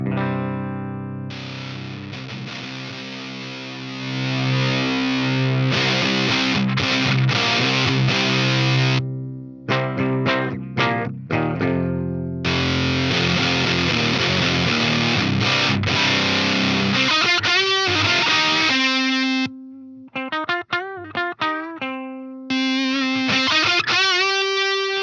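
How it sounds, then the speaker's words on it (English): An electric guitar played through a ProCo RAT distortion pedal with knobs set around noon, heavily saturated sustained chords and single notes ringing out, broken by short muted gaps and choppy stabs, loud and alone. "with the knobs at noon, we've got barely any output level and insane amounts of distortion"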